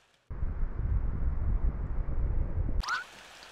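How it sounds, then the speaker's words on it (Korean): Wind blowing inside a blocked stove in a Crayon Shin-chan horror fan game: a steady, loud low rushing roar that starts abruptly and runs for about two and a half seconds before cutting off, followed by a short tonal game sound. "바람 소리다."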